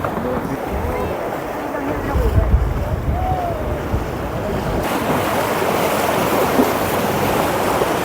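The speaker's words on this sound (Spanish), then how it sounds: "Los motores de este transporte." A boat's engines run at sea on a trip from Puerto Montt to Chiloé. A low, constant rumble sits under loud wind buffeting and the wash of waves for the whole stretch.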